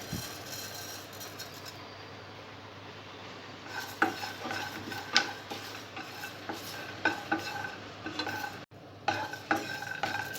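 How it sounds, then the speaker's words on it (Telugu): Peanuts, cashews and sesame seeds roast in a hot pan with a steady soft sizzle, broken by sharper clinks and scrapes of a spoon against the metal, growing busier after the first few seconds. "పల్లీలు జీడిపప్పు కొద్దిగా ఫ్రై అయిన తర్వాత నువ్వులు వేసుకోవాలి."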